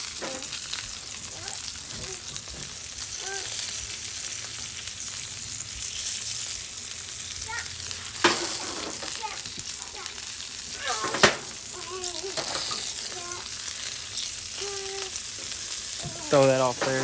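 A tomahawk ribeye steak sizzles loudly in melted butter on a Blackstone griddle, a steady close crackle broken by a few sharp pops and scrapes, with no one talking.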